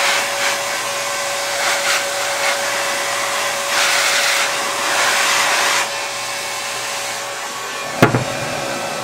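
A heat gun blows with a steady, loud airy whoosh while heating shrink tubing on a wire bundle, swelling and easing as it moves along, then ending in a sharp click near the end.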